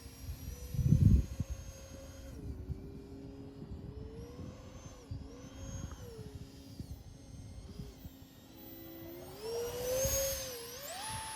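A small 50mm FPV drone flies slowly, its thin motor whine rising and falling in pitch throughout, with a brief louder burst near the start and another surge toward the end.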